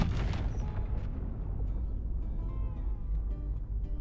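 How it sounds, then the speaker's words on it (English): Chained large hydrogen tanks detonate in Space Engineers, a deep booming blast that fades into a long, low rumbling roar with faint crackles of debris, no voices over it. "You could chain hydrogen explosions, but you're probably gonna get a bigger boom with the large hydrogen tanks"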